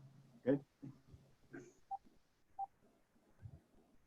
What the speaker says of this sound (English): press *6 on your phone